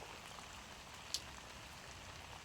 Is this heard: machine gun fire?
no